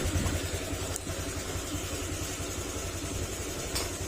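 A motorcycle engine idles steadily after starting, with a low rumbling pulse throughout and no voices over it.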